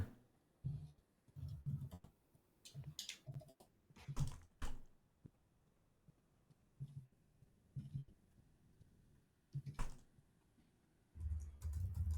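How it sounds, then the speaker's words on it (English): Furious typing on a computer keyboard comes in quick, irregular bursts of close clicks and thumps with short pauses between, faint and alone. "A lot of furious typing going on."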